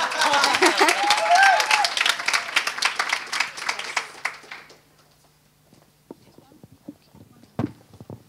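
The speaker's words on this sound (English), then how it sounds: "You can clap now." A graduation ceremony audience claps for two master's degree graduates, a dense burst of applause that fades after about four seconds into a quiet hall with a few scattered sounds.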